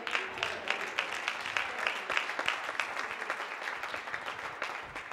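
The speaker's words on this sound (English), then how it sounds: "Clap your hands and thank the Lord." A congregation at a revival service claps along, many hands in a steady, lively patter with some louder individual claps standing out, sustained at a fairly even level throughout.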